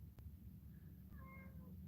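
A cat gives a short, faint meow in a quiet room, heard once after a small tap, over a low steady background hum.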